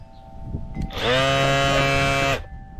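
A random orbit sander whirs at a high, buzzing pitch for a little over a second, then cuts out abruptly as it is switched off and stops dead, with faint handling noises around it.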